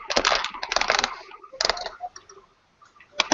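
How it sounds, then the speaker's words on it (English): Quick clattering keystrokes come in bursts with brief pauses, close by and fairly crisp, no voices. "I can hear you typing or something."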